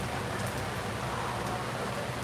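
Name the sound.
heavy rain falling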